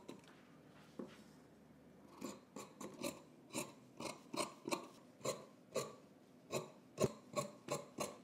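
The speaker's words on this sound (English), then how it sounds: "Let's go ahead and trim some of these seams." Fabric scissors trimming seams on a sewing project, a steady run of crisp snips close by, roughly a dozen cuts in an even rhythm, quiet and with no talking.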